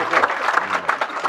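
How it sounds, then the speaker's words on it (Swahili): An audience claps steadily in applause for an engineer at a life celebration gathering, a dense sustained patter of many hands throughout. "Tupigie injinia makofi mazuri tafadhali."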